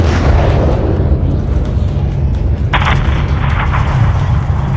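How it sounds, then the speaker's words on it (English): Missile strike levelling a hangar in Call of Duty Modern Warfare III, a loud, continuous rumbling blast wash with a sharper burst of crackling debris about midway, dense low-end roar throughout. "have your man drop a missile on that hangar"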